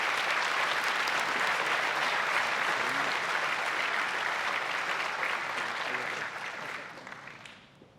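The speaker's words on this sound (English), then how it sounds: "Ladies and gentlemen, please join me in a round of applause for Captain Medica." A full crowd at a 2025 graduation ceremony applauds steadily and loudly, a dense wash of clapping that holds for several seconds before tapering off near the end.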